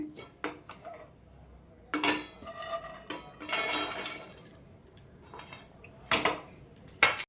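Roasted dry coconut pieces are scraped from a pan onto a plate, giving scattered metallic clinks and scrapes of a spoon against cookware, some sharp and close, with quiet gaps between.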